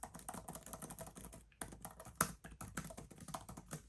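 Brisk typing on the clicky keys of an iPad Pro 12.9-inch Magic Keyboard, quiet and close, a rapid stream of crisp taps with a short pause midway.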